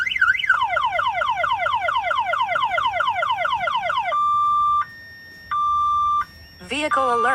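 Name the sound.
Dodge Challenger factory car alarm sounding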